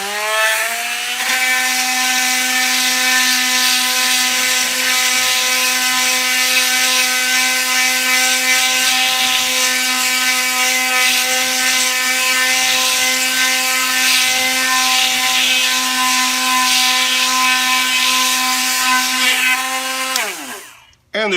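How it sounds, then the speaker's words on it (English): Kimo 20V cordless oscillating tool sanding stain off a piece of wood: a loud, steady high-pitched buzzing drone with a strong whine, running continuously for about twenty seconds before abruptly shutting off. "Let's see how well it sands that off."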